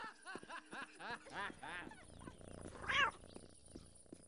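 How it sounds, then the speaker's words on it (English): Several cats meowing in the video game Postal 2, a rapid series of close, loud mews and yowls in quick succession, ending in a sharper caterwaul. "Look at all those cats."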